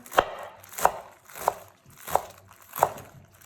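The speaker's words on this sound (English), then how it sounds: "And we just bring that together in a bunch and finely shred." A sharp knife shreds a bunched ingredient finely on a cutting board while gozleme is prepared, five crisp evenly spaced chops about two-thirds of a second apart, close and clear with nothing else heard.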